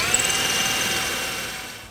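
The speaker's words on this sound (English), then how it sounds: "you're gonna drill 4 mounting holes" Power drill boring a 1/4-inch mounting hole through a rear fender of a 2001-10 Honda Gold Wing motorcycle, a steady high whine held close and loud for two seconds, fading slightly at the end.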